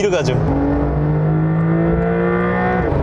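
A Porsche 911 GTS engine revs hard and high, its pitch climbing from 6000 to 7400 rpm in a loud, sustained roar from close by, then easing off at the end.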